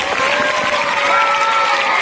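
An audience applauds at a primary school prize-giving ceremony, making dense, continuous clapping from many hands that holds steady throughout, with a faint crowd murmur and a thin tonal hum underneath.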